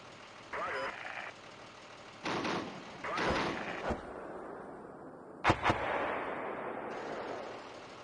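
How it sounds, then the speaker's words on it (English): Gunfire and explosions sound in the tank simulation Steel Beasts Pro, with several heavy booming bursts and a sharp double crack near the end, spaced irregularly over a low rumble. "Is that you guys shooting"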